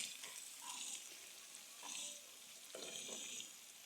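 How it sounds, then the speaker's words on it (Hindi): A fresh garlic, ginger and green chili paste fries with onions in a pan, a quiet sizzle broken by a few short bursts of stirring and scraping, with no talking. "तकरीबन 2 मिनट के लिए हम इसकी भुनाई करेंगे"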